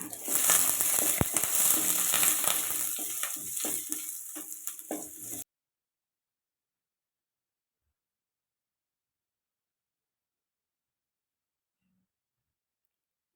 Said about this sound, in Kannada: ಕರಿಬೇವು ಸೊಪ್ಪು ಈರುಳ್ಳಿ ಹಾಕಿ ಫ್ರೈ ಮಾಡ್ಕೊಳ್ಳಿ